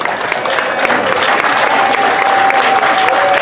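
Crowd applause for the grand marshals at a Philippine Weekend community celebration, a steady, dense wash of clapping holding at full strength throughout with no break.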